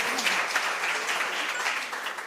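Warm applause from a seminar audience honouring a professor at an academic event on under-utilised crops, dense clapping sustained at moderate level throughout without speech.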